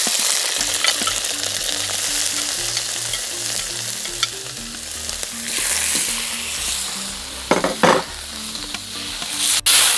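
Squid rings frying in garlic-flavoured oil in a pan, giving a continuous loud sizzle and crackle with occasional stirring scrapes and a brief clatter near the end, no voices.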